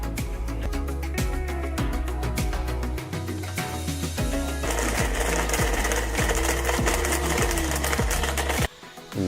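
Blender chopping glow sticks: a loud motor whirs with rapid, regular rattling and clattering as the plastic pieces are thrown around the jar, the pitch shifting partway through before a sudden cutoff near the end.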